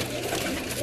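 A Teddy pigeon at a home loft in Multan gives a soft, low cooing close by over a short moment, with the call rolling continuously and no clear speech.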